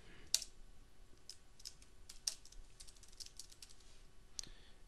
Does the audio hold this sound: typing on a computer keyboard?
yes